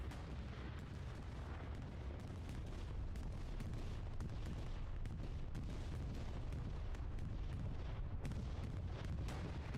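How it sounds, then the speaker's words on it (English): Explosions from a bombing run in a competitive online shooter match, a dense continuous barrage of booms and blasts rumbling loudly for about ten seconds with no talk. "Do have our first bombing run."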